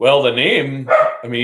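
A dog barks in short bursts close to the microphone, its yaps overlapping someone talking during a bowling podcast conversation.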